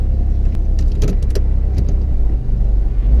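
A car is driven on a road test after a hydraulic steering assist has been fitted. A steady low engine and road rumble carries on throughout, with a few light clicks and rattles from the cabin and no talk.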